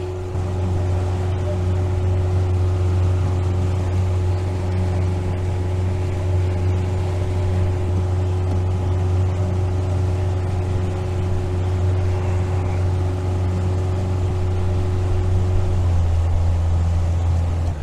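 A boat motor drones steadily as the craft comes into a foggy harbor at Voyageurs National Park, a loud, constant low engine hum with a faint tonal whine and some water wash, shifting slightly near the end.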